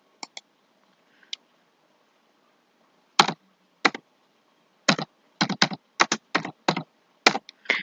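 Computer keyboard typing while building a Microsoft Word document: a few light isolated taps, then a run of crisp key clicks in quick irregular bursts, close and clear over a quiet background.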